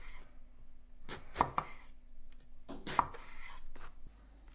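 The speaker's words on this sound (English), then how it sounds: "Cut an eggplant in half lengthwise, then into pieces" A knife cuts through an eggplant on a board in a few quiet, separate strokes, each ending in a soft thud, close up, with no one speaking.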